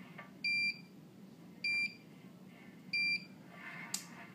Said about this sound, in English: it will set off an alarm saying that it's found a flaw, but in our case, it'll say that we found the weld